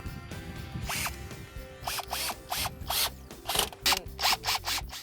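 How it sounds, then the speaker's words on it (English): A powered driver runs screws into the header channel of a Bestop Supertop soft top on a 1997–2006 Jeep Wrangler TJ, giving a series of short whirring bursts with clicks and handling noise between them. "Then just install the corner screws into the header channel."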